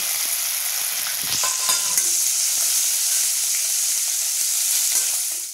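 Chopped green chillies, seven or eight, dropped into hot oil for a cabbage and chana dal dish: a loud, continuous close sizzle with a few brief scrapes and clatters, no voices.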